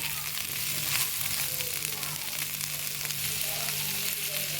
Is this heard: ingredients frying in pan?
yes